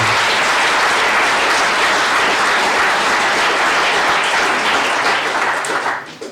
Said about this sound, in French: Applaudissons la métropole européenne de Lyon.